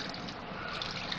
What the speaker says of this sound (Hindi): हाफ कप पानी डाला है मैंने इसमें।